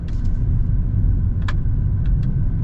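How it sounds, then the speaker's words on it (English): 2022 Mercedes-AMG GLE 63 S with its exhaust open in the powerful setting, a steady deep engine rumble close by with no talking over it and a few faint clicks from inside the cabin. "Make sure the exhaust is open in the powerful setting"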